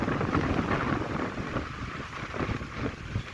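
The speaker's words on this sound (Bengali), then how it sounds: "প্রচণ্ড ঢেউ, প্রচণ্ড হাওয়া হচ্ছে" Strong gusty wind sweeps over a river with rough waves, making a continuous low buffeting rumble close to the microphone for a few seconds, with no talking.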